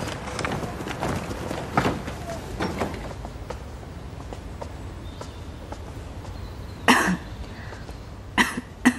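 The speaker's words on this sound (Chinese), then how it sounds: "如今又有些咳嗽。" A woman coughs several times in a drama scene, short rough bursts bunched near the end after a stretch of soft movement and room noise.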